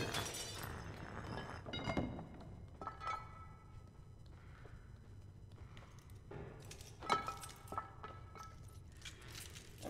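Broken glass shards in Little Nightmares 2 crunch and tinkle in scattered bursts, with sharp clinks and a louder crackle near the end, fairly quiet against a low dark background hum.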